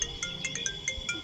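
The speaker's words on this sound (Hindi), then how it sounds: "फोन आवत बा" A phone ringtone plays a quick, bright electronic melody of short repeating tones, fairly loud and close, with no voices over it.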